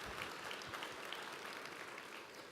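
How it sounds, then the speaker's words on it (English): An audience at a 2013 general session in Las Vegas applauds, a fairly faint, dense and steady patter of many hands that continues for the whole moment. "go ahead and give him a hand clap for that"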